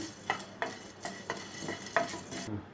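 Peanuts and cumin are lightly fried in a pan for a bottle gourd tempering. A spatula scrapes and stirs in a steady rhythm about every half second over a faint sizzle, with no talking.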